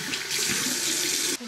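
Tap water runs steadily into a bathroom sink during face washing, a close, loud continuous stream that cuts off sharply near the end.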